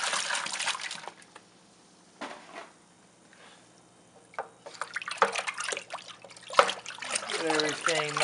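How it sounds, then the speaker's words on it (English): Water is poured into a brewing bucket while making a mead cyser, coming in uneven bursts of trickling and splashing between pauses, with a person talking intermittently nearby. "I'm gonna pour some of the water in there."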